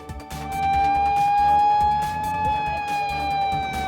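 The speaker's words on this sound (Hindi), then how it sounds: "इस वक्त भोपाल में ब्लैकआउट कर दिया गया है, सायरन भी बज गया है" Air raid siren wailing over a city during a blackout mock drill in Bhopal, a sustained tone heard at a distance under street noise, with loud nearby voices talking throughout.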